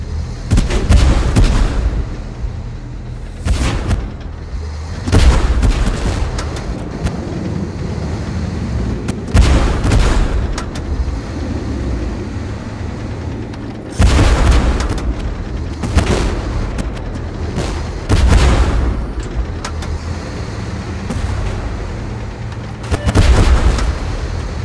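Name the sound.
tank gunfire and artillery explosions in Tank Force video game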